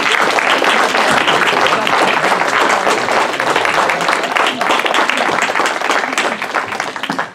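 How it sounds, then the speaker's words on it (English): Audience at a Center for Spiritual Living gathering applauding volunteers, loud dense clapping sustained evenly for several seconds with no talk. "give them a round of applause"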